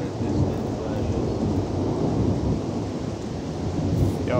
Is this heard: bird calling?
no